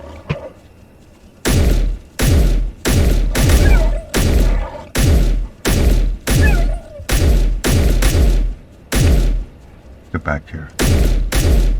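Video game gunfire in Space Engineers: loud, close bursts of shots in a repeated rhythm, about a dozen volleys with short gaps between them, and a brief spoken line near the start.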